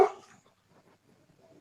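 A dog gives one sharp, close bark at someone outside, followed by faint quiet rustling and small sounds fading out.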